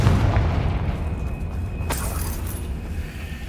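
The Confringo fire spell explodes in Hogwarts Legacy, giving a loud, sustained rumbling boom with a sharp crack partway through, heard alone without speech.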